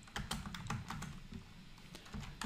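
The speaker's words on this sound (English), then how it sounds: "So let's type license feature 3." Typing on a computer keyboard while writing Node.js code, a quick run of close, light key clicks in an uneven rhythm with no talking.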